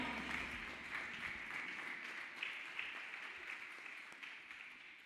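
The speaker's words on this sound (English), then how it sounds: "Clap hands beautifully for Jesus Christ, people of God." Sustained applause from a church congregation, a steady rush of clapping with a few louder bursts, continuing throughout.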